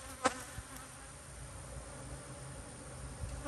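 Honey bees buzz around a bag at an apiary, a close, continuous droning hum with a faint thump near the start, steady and unaccompanied by voices.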